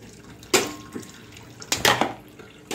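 Water from boiled pasta pours through a kitchen strainer in two short, splashy gushes with a faint trickle between them, close and fairly loud.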